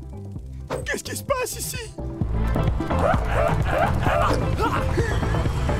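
A cartoon dog in the French animated series Zip Zip yips and barks in a few sharp bursts, then a voice speaks over busy background music.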